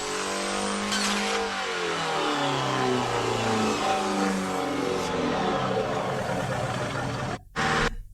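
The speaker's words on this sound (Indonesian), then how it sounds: "Anjir tuh motor apaan ya?" A motorcycle engine revving hard and loud, its pitch sweeping up and down in repeated surges before cutting off abruptly near the end.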